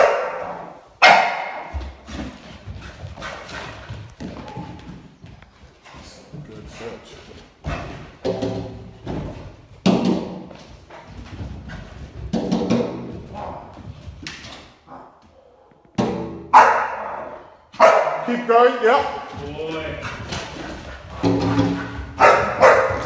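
A Staffordshire Bull Terrier barks in loud, repeated bursts during personal protection training staged as a home invasion, with handlers talking and giving commands between and over the barking.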